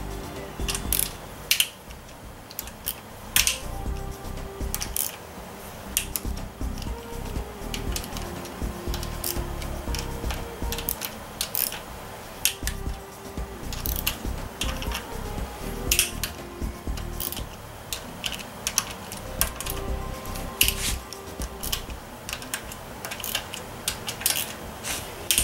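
Bolts on a Ford 4R70W automatic transmission case are loosened with a ratchet, giving a long run of quick, close metallic clicks in repeated bursts, with no one talking.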